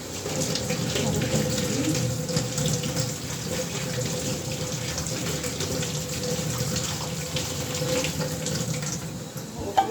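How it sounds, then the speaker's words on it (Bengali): Kulekhara leaves are washed under running tap water, a steady close gush and splash lasting the whole stretch, with faint handling noises and an occasional soft thump. "সিদ্ধ করে জলটা ছেঁকে দিয়ে কুলেখাড়া পাতাগুলোকে ধুয়ে নিই"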